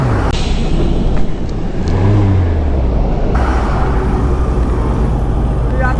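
A vehicle comes up suddenly from behind on an Indian state highway during a long motorcycle ride through Bihar and West Bengal, its engine and tyre whir rising and passing over constant road and wind rumble.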